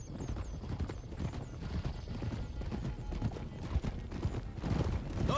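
Several horses gallop together in Red Dead Redemption 2, a dense, continuous drum of hooves close by, with occasional whinnies over the steady pounding.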